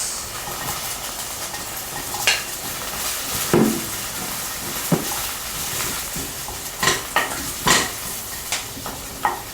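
Onion chunks sauté in a pan with a steady sizzling fry, broken by several sharp stirring scrapes and clatters spread across the stretch, with no voices.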